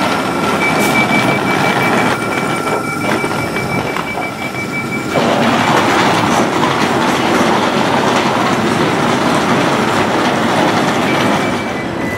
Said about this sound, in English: this is our train here heading off to Kings Lynn